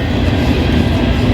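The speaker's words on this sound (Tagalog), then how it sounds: "Yan, may train pala. May train." A train passes on a railway near a roadside, a loud, steady low rumble of rolling wheels and carriages filling the short moment.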